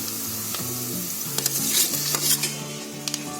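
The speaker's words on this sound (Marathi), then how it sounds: "तोपर्यंत आपला कांदा पण मस्त फ्राय झालाय. आता याच्यामध्ये मी टोमॅटो टाकते." Tomatoes tumble into fried onions in a pan for chicken dal gosht, a loud close sizzle with brief clinks and stirring scrapes, while a steady low hum continues underneath; no one speaks.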